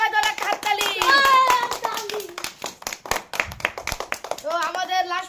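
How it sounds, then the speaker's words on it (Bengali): Children clapping together for the winner of a kids' party game with household prizes, a burst of quick hand claps under lively young voices calling and chattering throughout. "সবাই ধরে একটা হাততালি।"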